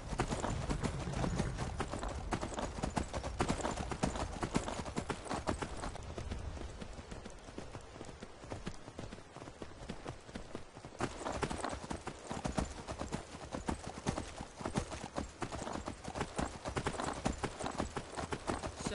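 A horse in the video game Skyrim gallops, rapid hoofbeats clattering in a steady rhythm throughout, close and continuous, with a slight lull midway before the pounding picks up again.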